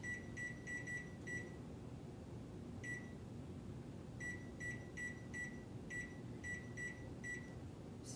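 An oven timer beeps in short bursts of rapid tones, with several quick clusters separated by pauses, clear over a low steady kitchen hum.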